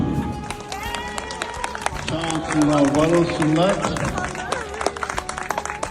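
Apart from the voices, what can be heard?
crowd applause at a spring festival picnic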